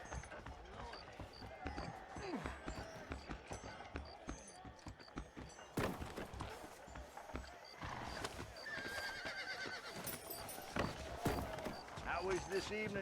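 Horses in the video game Red Dead Redemption whinny repeatedly and their hooves clip-clop beneath, with game music and voices talking over a busy, continuous mix throughout.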